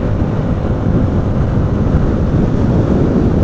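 Cold wind buffeting the microphone while riding a motorcycle through São Paulo, a loud, constant low roar mixed with engine and road noise, steady throughout with no voices.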